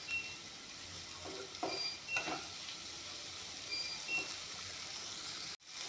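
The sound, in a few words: paneer frying in a pan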